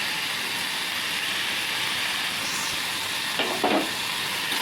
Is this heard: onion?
yes